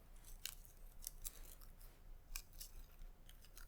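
Faint, quick snips of scissors cutting crepe paper petals for a cherry blossom branch, several light crisp cuts in small clusters against a quiet background.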